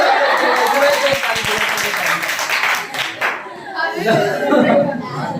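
Children in a classroom clap together during a Class 10 science practical session, a brief burst of sharp claps amid laughter and chatter, with voices talking before and after.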